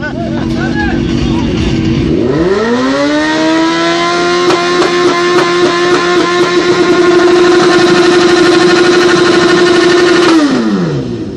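A loud motorcycle engine at a loudest-bike contest in Montana, 2016, revs up sharply and holds a high, steady roar for several seconds before dropping off, close and dominant.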